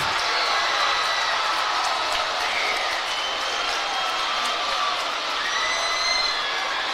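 Crowd noise at a high school basketball game between North Oldham and Oldham County: steady, loud broadband cheering and shouting from a packed gym, holding evenly throughout with scattered whoops.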